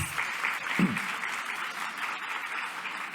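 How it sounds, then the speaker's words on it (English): An audience at a graduation ceremony bursts into sustained applause, dense clapping from many hands, loud and steady throughout, with a brief low thump near the start. "Can you give him a big round of applause?"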